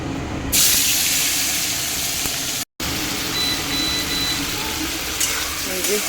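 Ginger and cumin spice paste cooking in water rather than oil in a pan, giving a steady soft sizzle and bubbling hiss that runs through, with a brief dropout midway and speech over it.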